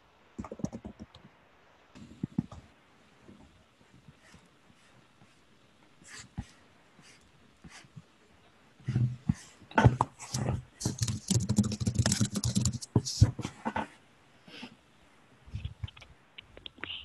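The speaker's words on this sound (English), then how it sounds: "I'm still typing up notes from what we discussed about this one." Typing on a computer keyboard during an online meeting, with scattered key clicks at first that build into a busier run of taps in the middle before thinning out again.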